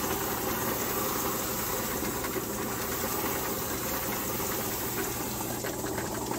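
A buffing machine polishes a leather gun holster with a constant, even motor whir and a faint rattling texture that stays steady throughout, close up and alone.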